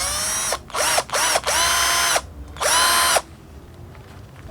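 A Dewalt cordless drill bores into a wall in several short whirring bursts, with one longer run and then a final burst before it falls silent, close and loud with no talking.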